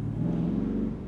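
A petrol car engine revs steadily while driving around residential streets, a continuous mid-pitched drone heard close with no speech.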